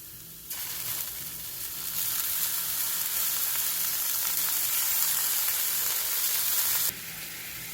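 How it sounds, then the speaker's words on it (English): Garlic stir-frying in a hot pan gives a loud, steady, bright sizzle that swells right after it hits the oil and holds for several seconds before dropping back, close and with no talking. "Now you want to stir fry the garlic."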